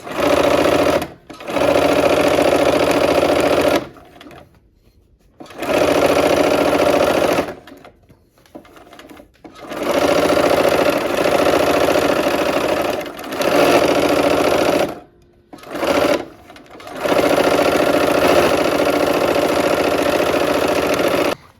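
A sewing machine stitches quilt fabric cut on the bias, its rapid, steady mechanical whir running in several bursts separated by short pauses.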